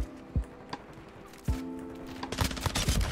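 SMG gunfire in Call of Duty MW2: a few separate shots early on, then a quick run of rapid bursts toward the end, all fairly quiet and without talk.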